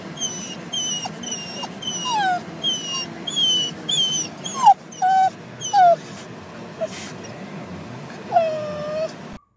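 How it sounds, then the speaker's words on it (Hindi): A dog whimpers and wails in a string of high, sliding whines and yips, close and fairly loud, with short pauses between cries and a final drawn-out moan near the end. "अब कुत्ते का रिरियाना जानते हैं या नहीं जानते तो हम बताते"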